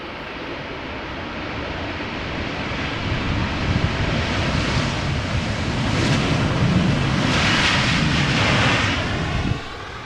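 A fixed-wing airliner landing in a crosswind at Amsterdam Schiphol Airport roars loudly and steadily, building over several seconds with a broad rushing engine wash and wind noise before cutting off abruptly near the end.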